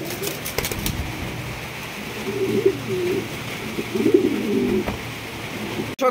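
King pigeons at a market stall coo steadily in low, throaty pulses, with bursts of heavier cooing midway and near the end, the birds close and clear against a busy background hum.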